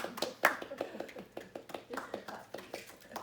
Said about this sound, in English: Everybody do a clap.